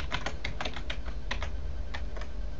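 A password is typed on a computer keyboard, with quick irregular bursts of close, crisp key clicks and short pauses between them.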